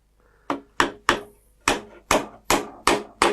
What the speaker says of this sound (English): I hit him with the iron hammer.